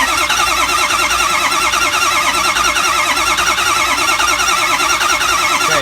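An engine cranks steadily during a compression test, the starter churning in a continuous, even rhythm that stays loud and close for the whole stretch without firing up.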